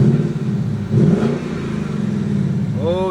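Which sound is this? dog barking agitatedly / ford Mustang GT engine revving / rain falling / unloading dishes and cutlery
ford Mustang GT engine revving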